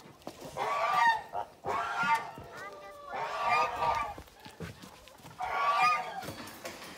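Geese honk near their nest in a farmyard, giving about four loud, close bursts of harsh, repeated calls, each lasting under a second and spaced roughly a second and a half apart.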